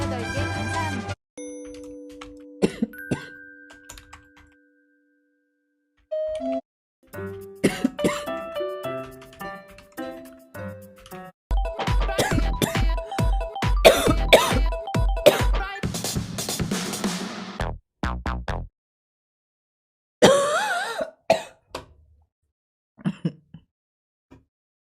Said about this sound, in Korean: 나 기침 좀 해도